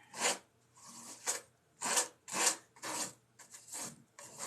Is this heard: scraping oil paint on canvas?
yes